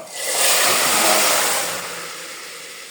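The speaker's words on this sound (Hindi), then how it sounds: "और अब इसमें डाल दूंगा मैं तड़का।" A loud hissing sizzle bursts up as a spiced tempering hits hot oil over moong masoor dal, swelling quickly then settling into a softer, steady fizz.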